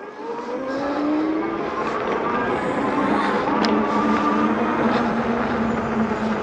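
An Engwe M20 e-bike rolls down a gravel hill and brakes, giving a steady crunching, hissing rumble of tyres on loose gravel under continuous wind noise, close and fairly loud throughout.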